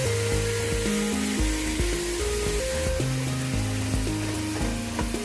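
Meat sizzles and fries in its own rendered grease in a pan, a steady close crackle and hiss running the full length while a steady, loud, stepping musical tone plays over it.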